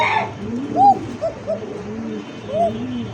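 A Koka pigeon coos softly several times, low rounded calls with brief pauses between them, fairly close in a quiet setting.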